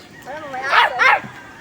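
A dog waiting behind a house in the Philippines gives two quick, whiny barks close by, rising yelps in a short burst against a quiet background.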